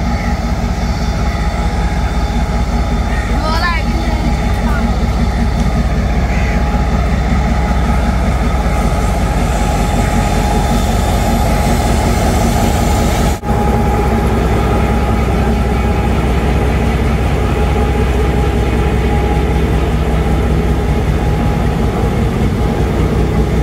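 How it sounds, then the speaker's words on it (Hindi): The Mohenjo-Daro passenger train waits at platform one of a station, its engine idling in a loud, steady, low rumble that runs throughout, with a faint chirp early on and a brief dip partway through. "ट्रेन हमारी एक नंबर पर प्लेस हो गई है"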